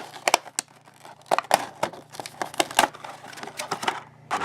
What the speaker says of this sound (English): you can start cutting along that bottom edge with like an X-Acto knife, and then you can come up both sides, and then really you just kind of pull everything out